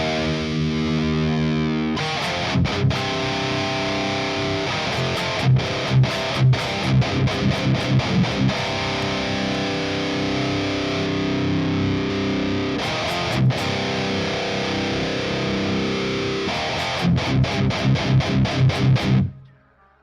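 Heavily distorted electric guitar through the Audio Assault Amp Locker amp simulator, modelled on a Randall Satan head, plays sustained chugging chords and bursts of tight palm-muted stabs, loud and close, ending abruptly.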